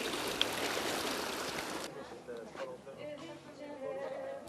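A small mountain stream high in the Swiss Alps, its first trickle of water running with a steady close rush that softens and thins after the first two seconds into a quieter, uneven babble.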